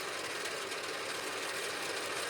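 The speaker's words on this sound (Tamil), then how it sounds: "அதை இந்த மாதிரி மிஷினில் நறுக்கி நம்ம தூளாக ஆக்கினோம்னா" A machine chopping dry sorghum stalks into fine goat feed gives a steady, even whirring hum with no breaks, fairly faint and heard alone without any talk.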